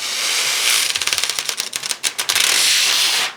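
Rhinestone transfer tape peeled off its backing sheet in a fast crackling rip, a dense run of sharp ticks and pops close to the mic, alone, lasting about three seconds.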